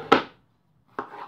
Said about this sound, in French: on fait des petits morceaux